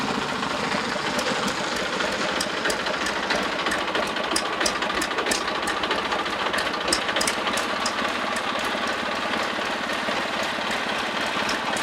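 A tractor engine runs at a steady idle after starting, a continuous close mechanical chugging with fine rapid ticking that stays even for about twelve seconds with no talking.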